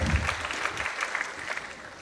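Audience applause at a Tamil film producers' association event: dense, steady clapping from a crowd, fairly loud and continuous, with a heavier burst at the start before settling into an even patter.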